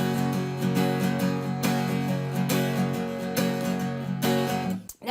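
Acoustic guitar strummed in a driving triplet pattern with accented beats on a song's chorus, full ringing chords played continuously up close, fading out at the end.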